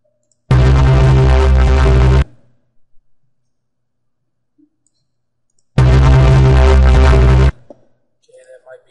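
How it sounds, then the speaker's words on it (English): Resampled acid dubstep bass with distortion plays in two loud, buzzy, harmonically dense bursts of about two seconds each, separated by near silence. "the first thing we're just going to do is put a distortion on it"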